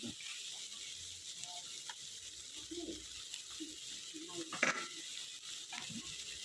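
Chicken larb stir-frying in a pan after water goes in, a steady low sizzle and bubbling with occasional scraping stirs, fairly faint and continuous with no talk over it.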